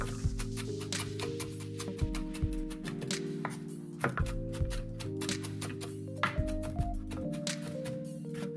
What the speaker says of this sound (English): I love to mince my garlic, and this is how I mince my garlic